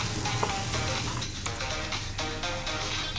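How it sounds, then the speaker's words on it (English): French beans being stirred into onions and tomatoes frying in a pan, a loud close sizzle broken by the scrape and clatter of the spoon, with no talk. "Add in all the French beans and mix it well."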